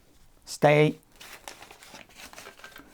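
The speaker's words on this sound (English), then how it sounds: "now I've got the patterns here, so I'll just have to shuffle through until I find the right one" Paper sewing patterns crinkle and rustle as they are shuffled through, with one loud close crumple early on followed by softer rustling under a person talking.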